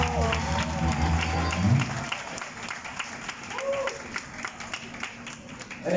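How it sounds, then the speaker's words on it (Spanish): A concert crowd applauds a bass player during band introductions, scattered clapping and light cheering after a brief bit of music, moderately loud and thinning out. "Un aplauso para él."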